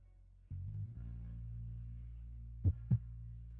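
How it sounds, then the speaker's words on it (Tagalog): A low, muffled heartbeat effect starts abruptly after a short pause, holding a steady throbbing hum before two quick, louder thumps near the end; faint and alone with no talk. "Ang bilis ng tibok ng puso ko?"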